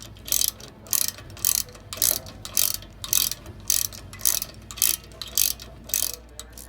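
A 12 millimeter ratchet wrench tightens brake bolts on a 92 F150 rear disc conversion, with crisp clicking bursts repeating at a steady rhythm, roughly a dozen strokes, close and distinct.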